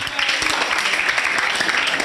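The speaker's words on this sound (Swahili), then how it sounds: "hiyo makofi bado ni kidogo jameni." A crowd claps continuously at an annual general meeting in a hotel in Lokichoggio, Kenya, a dense patter of many hands at moderate loudness, steady for a couple of seconds.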